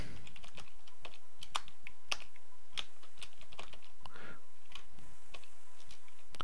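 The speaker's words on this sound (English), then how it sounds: "you can type the command password to change the password on your Oracle account" A password typed on a computer keyboard into an Oracle SQLPlus session, with crisp close key clicks in an uneven rhythm over about six seconds and no voices.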